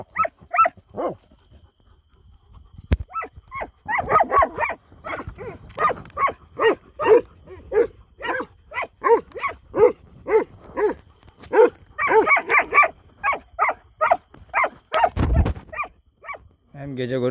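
Kangal dogs loose at night on a farm, barking repeatedly in a fast, loud, rhythmic series close by, several dogs overlapping at times.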